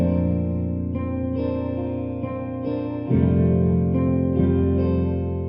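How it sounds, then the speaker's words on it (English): A sustained, distorted tone rings out through a stereo delay audio effect, with repeating echoes trailing behind it, swelling louder partway through. "you have more delays in stereo"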